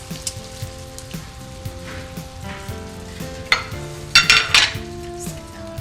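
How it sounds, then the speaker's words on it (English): White beans and canned tomatoes with their juice being stirred in a pressure cooker pot, a soft wet sizzle with a few scraping spoon strokes toward the end, close and unaccompanied. "Just give them a little bit of a stir."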